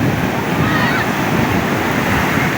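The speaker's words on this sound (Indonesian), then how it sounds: "Mundur, yang mundur, ombak gede." Big ocean waves surge and crash onto the beach at Pantai Sendang Biru, a loud, continuous wash of surf and spray with wind buffeting the microphone throughout.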